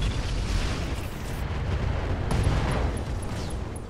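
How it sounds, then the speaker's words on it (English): An ammo explosion in the Roguetech BattleTech video game sets off a loud, sustained rumbling blast with a dense low roar and crackling debris throughout, close and overwhelming. "Ammo explosion."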